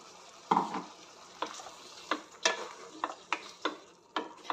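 Tomato puree frying in oil in a pan for a prawn curry. Soft, steady sizzling sits under a series of distinct scraping stirs, about a dozen strokes at an irregular pace, close by.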